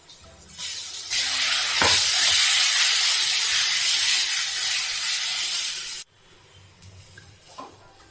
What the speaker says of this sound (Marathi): तूप छान गरम होऊ द्यायचं त्याच्यामध्ये आता हे आपण जे वाटण करून घेतलेलं आहे ते टाकून घ्यायचं